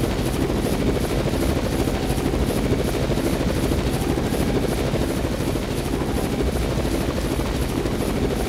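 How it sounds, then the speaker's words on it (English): A helicopter in a disaster simulation game arrives with a loud, continuous rotor roar that holds steady throughout, with no voices. "The helicopter is here!"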